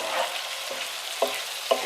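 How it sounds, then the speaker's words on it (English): Chicken browning in a very hot skillet for peach chicken, a steady close sizzle and crackle of frying with a few soft scraping stirs of a utensil against the pan. "We're going to get this chicken browned up"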